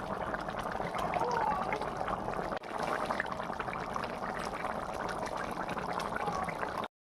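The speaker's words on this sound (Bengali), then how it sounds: "তার মধ্যে গরম জল দিয়ে দেব" Hot water poured into a pan of fish curry, a steady gushing and bubbling stream that runs for several seconds with a brief break, fairly close.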